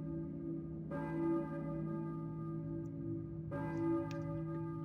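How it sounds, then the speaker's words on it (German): Church bell tolling in the Silent Hill video game, calling toward the Balkan Church; two loud, resonant strikes with long ringing harmonic tails over a steady low ambient drone, no voices. "Ich höre eine Kirchenglocke vielleicht."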